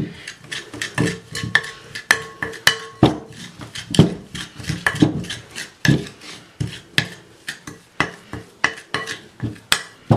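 A metal whisk beats tart batter in a bowl, a steady rhythmic series of close scraping clinks that keeps going without any talk.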